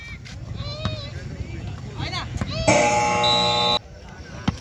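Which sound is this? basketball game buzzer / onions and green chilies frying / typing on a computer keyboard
basketball game buzzer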